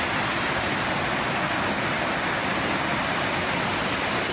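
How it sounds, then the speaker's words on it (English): Wellington Falls in Tasmania roars as a steady, dense rush of cascading water, loud and unbroken throughout with no voices. "Shows an upper cascade as well."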